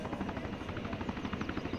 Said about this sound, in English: Let's see if that helicopter just dies